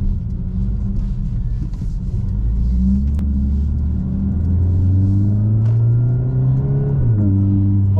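A 2025 CLA 45 S engine hums steadily up close, its exhaust note rising in pitch as it revs, then dropping back near the end.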